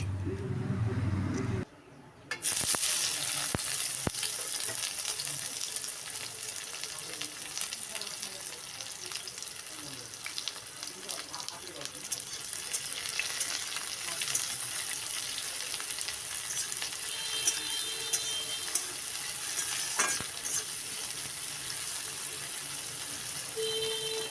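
Chopped onion frying in leftover fish-frying oil with whole cumin seeds and bay leaf, a steady close, loud sizzle that runs almost without pause after a brief quieter gap at the start, with occasional stirring clatter.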